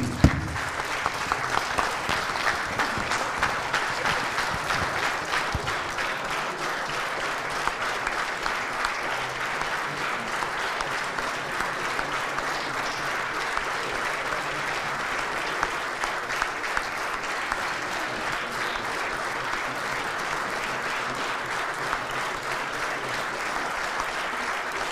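Sustained applause from a crowd, steady and dense, continuing for the full duration without pause.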